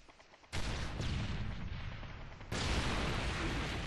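Dense, loud gunfire from a hardcore team deathmatch in Call of Duty Modern Warfare 3, a continuous roar of shots and blasts that jumps in intensity twice, with no talk over it.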